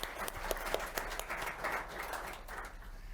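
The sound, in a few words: audience applause for panelists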